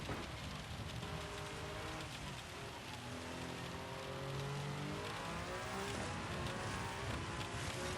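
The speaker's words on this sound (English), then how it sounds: "Okay, now we're starting to get the rain, and for full effect I'm going to go interior view" Steady rain in Gran Turismo 7, heard from inside a Toyota GR010 Hybrid hypercar at Le Mans, drumming continuously over a droning engine with gear-shift sweeps, loud and unbroken throughout.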